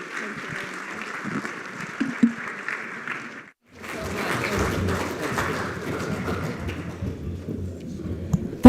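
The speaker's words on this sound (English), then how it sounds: "So please give a round of applause to Chief Justice of Kenya" Audience applause for Chief Justice of Kenya Martha Koome at a security forum, a steady wash of many clapping hands that pauses briefly, then resumes fuller and louder, with a few voices faintly mixed in.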